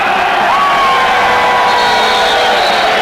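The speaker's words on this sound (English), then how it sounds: "The crowd counts it down." Huge stadium crowd at the 1994 Hockey World Cup final between Pakistan and the Netherlands, chanting and roaring continuously as the final seconds are counted down, a dense wall of voices with loud shouts and whoops.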